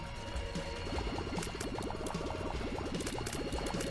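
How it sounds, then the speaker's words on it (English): Water sounds played back by an Alexa smart speaker: a faint, continuous bubbling and gurgling like boiling liquid, with a steady fluttering rhythm and no talk over it. "was that 10 seconds of water sounds?"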